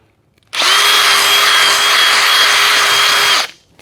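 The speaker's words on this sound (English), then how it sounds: "So I'm just going to open it up a little bit, not too much, just to make it a little bit easier to thread through." Close and loud, a power drill fitted with an 8mm bit reams holes for a chicken nipple drinker in a single sustained high-pitched whine lasting about three seconds, with quiet before and after.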